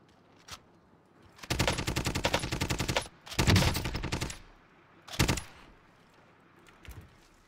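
MP5 submachine gun bursts in a solos shooter match, several rapid automatic bursts of loud close gunfire separated by short pauses, with a few single distant shots.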